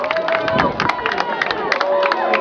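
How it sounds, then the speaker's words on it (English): A crowd gathered at sunset in Santorini claps and cheers, a dense patter of applause and scattered whoops with murmured voices throughout, steady and fairly close. "now people are cheering because the sun just set"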